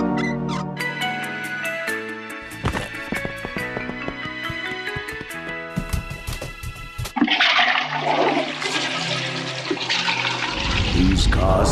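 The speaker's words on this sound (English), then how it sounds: "We need to hurry before the 6 o'clock flush." Cartoon toilet flush from the animated series Cramp Twins, starting with squeaky and clanking effects and then a loud rushing swirl of water toward the end, with no clear speech.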